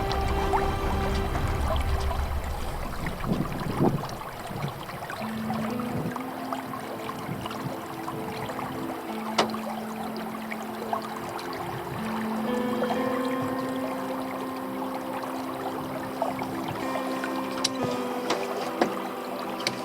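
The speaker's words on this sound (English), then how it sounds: "Oh, there was a motorboat behind myself." A motorboat passing on a Finnish lake, heard as a steady low engine hum with a shifting drone from a short distance, alongside water lapping and occasional knocks from the sailboat.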